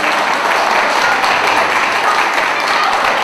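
Loud, dense applause from a theatre audience welcoming a guest onto the stage, a continuous close wash of clapping throughout.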